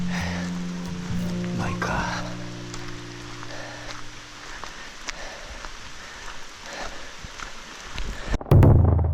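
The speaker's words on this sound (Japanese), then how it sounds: "今トイレ行ってきたら大雨が降ってきましたね。" Heavy rain drums steadily on a tent pitched in a forest, a dense, constant hiss close around, with one brief spoken phrase and a sudden louder clatter at the very end.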